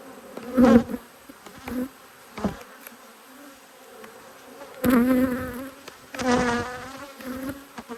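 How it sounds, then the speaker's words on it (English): Honeybees buzz steadily around an open hive during an inspection, a constant drone broken by several louder swells as individual bees fly close past. "lots of bees down the bottom of the frame."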